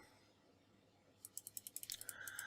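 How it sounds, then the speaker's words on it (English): Quick keystrokes on a computer keyboard while entering a question into a data analysis tool, about a dozen crisp close clicks in a fast run after a quiet stretch, ending in a faint hum. "So you can type a question here"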